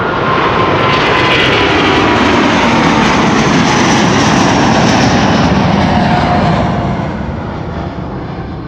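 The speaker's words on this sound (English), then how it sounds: "Delta Airlines A330neo on its way." A Delta Air Lines Airbus A330neo airliner at Amsterdam Schiphol Airport, its engines producing a loud, steady broadband roar that holds throughout and eases slightly toward the end.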